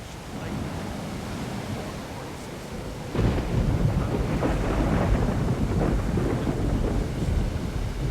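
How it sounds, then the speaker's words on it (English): A heavy thunder crack bursts in about a third of the way through and rolls on loudly over steady storm rain in Splinter Cell: Chaos Theory's lighthouse mission, following a quieter stretch of rainfall. "They timed their fire with thunder."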